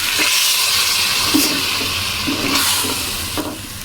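Moong dal with masala and a cup of water is stirred in a pan over a medium flame, giving a steady wet sizzle with a few soft scraping strokes and no voices.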